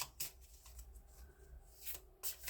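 Tarot cards are shuffled by hand in quick riffling bursts, with close, crisp flutters at the start and end and softer sliding and handling between, no talking.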